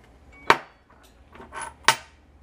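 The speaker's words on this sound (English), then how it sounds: "and then you're going to hit this with your hammer" A hammer strikes a metal knockout tool in two sharp, close metallic hits about a second and a half apart, with a softer clink or shuffle between them and no talking.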